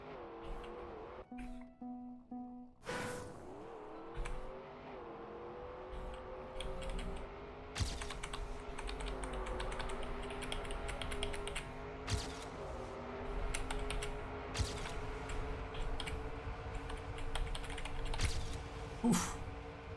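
Computer keyboard keys are pressed in sharp, irregular clicks while a car engine drones and shifts pitch in a racing game, the engine hum steady underneath the scattered key taps.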